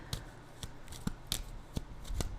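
Tarot cards are shuffled by hand in a series of crisp, sharp riffles and flicks, about seven distinct bursts at uneven intervals, close and clear with no talk.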